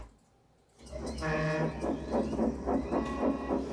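A cartoon steam engine puffs away from a station in a children's animated story, with rhythmic chuffs building after a brief quiet and a short whistle-like tone early on.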